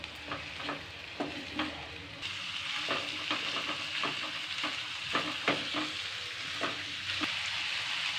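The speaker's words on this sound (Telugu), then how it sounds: "అందుకే బాగా ఫ్రై చేసుకోవాలి ఈ ఆయిల్లో మంచిగా" Broad beans frying in oil over a medium flame while a utensil stirs them, giving a steady sizzle broken by repeated scraping strokes against the pan, close and clear.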